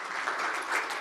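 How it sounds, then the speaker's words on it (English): Conference audience giving a round of applause, a dense steady wash of many hands clapping at even loudness for the whole second, with no talk over it. "Give them a round of applause for that."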